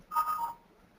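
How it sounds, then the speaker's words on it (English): A computer notification chime, one brief two-tone ding that is soft and clean and fades quickly into near silence. "we're getting one notification"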